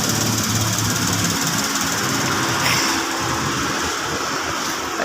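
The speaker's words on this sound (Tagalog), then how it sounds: "Ayan, 3 cylinder si Suzuki Celerio." A white Suzuki Celerio's 3-cylinder engine runs steadily at a service station, giving a continuous low mechanical drone with constant loudness throughout and no voices.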